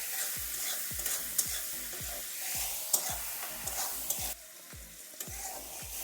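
Tomato fries with salt in a pan for a sola kochu and potato curry, a continuous sizzle broken by regular thumping stirs of a spoon about every half second, close up and without voices.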